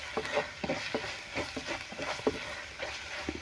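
Chilli powder and plenty of black pepper powder roast in a pan for a Kerala sardine curry with ground coconut: a soft, steady sizzle with rhythmic scraping stirs, quiet and close.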